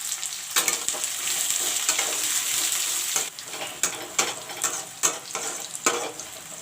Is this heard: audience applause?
no